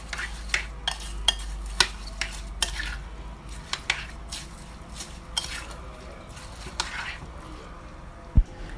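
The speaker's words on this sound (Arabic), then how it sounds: "هبدأ اخلطهم كلهم كده على البارد" Stuffing for stuffed grape leaves is mixed by hand in a bowl, cold, with a spoon scraping and tapping against the side in irregular close strokes and a sharper knock near the end.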